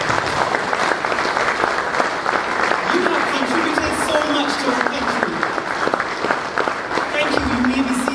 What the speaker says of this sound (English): give yourselves the biggest round of applause